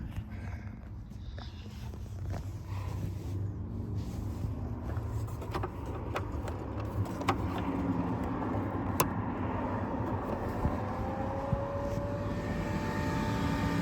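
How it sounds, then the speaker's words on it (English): A car's transmission cooling fan runs as a steady whir, heard close under a broad engine and vehicle drone, while a few faint clicks and knocks come and go across the stretch. "Now our transmission fan is on."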